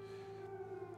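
An air raid siren over Independence Square in Kyiv sounds as a steady, sustained tone, distant and faint, holding for a brief moment with no voices.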